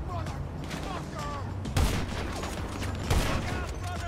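Enemy gunfire in GTA 5 Online on PS4, with bursts of shots cracking over a dense, continuous game soundscape and two heavier impacts standing out.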